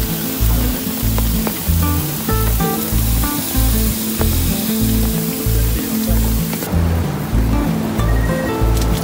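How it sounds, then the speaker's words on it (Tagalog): Surf rising along Dibut Beach at night churns loud and continuous, a steady roar of breaking waves with a low, pulsing rumble running underneath. "Tumataas na ang alon sa dagat"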